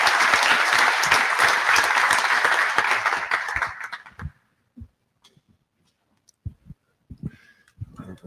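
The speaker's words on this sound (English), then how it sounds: "Applause." Audience applause at a research conference session, a dense round of clapping that fades out after about four seconds, followed by scattered knocks and movement noises in a quiet room.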